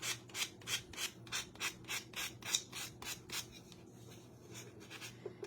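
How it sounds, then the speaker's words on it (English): Sandpaper rubs by hand along the edges of wooden truck and star table decor: about a dozen quick, even rasping strokes in a steady rhythm, close and fairly quiet, then it trails off into near silence. "we're just gonna sand down"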